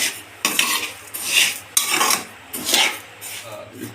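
Semolina and vermicelli dry-roasted in a pan with no oil, giving bursts of scraping, stirring and rasping against the metal in irregular strokes, fairly close and clear with no talking.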